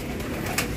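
Racing pigeons coo softly in a loft, a brief low throaty coo close by over a steady background hum.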